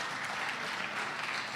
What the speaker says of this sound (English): If you guys could just all like clap after each one